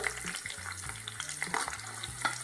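About a cup of chopped onions frying with two bay leaves in a pan: a loud, continuous close sizzle crackling throughout, with occasional stirring sounds.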